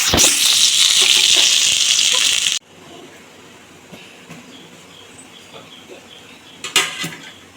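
Sliced onion hits hot oil with fennel and cumin in a pan, making a loud, dense sizzle for about two and a half seconds. It then cuts off to faint background with a few light clatters near the end.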